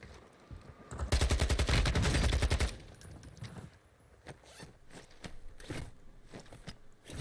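A loud, rapid burst of automatic gunfire rattles for about a second and a half in a battle royale game, followed by scattered sharper single shots and clicks against quieter background sound.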